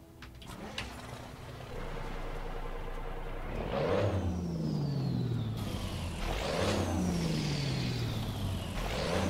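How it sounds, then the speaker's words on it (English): Modded truck engine sound in American Truck Simulator, a game rig starting up with a hiss, then a close diesel roar climbing in pitch and dropping through two gear changes. "I'd found a new engine sound for it on the Steam Workshop"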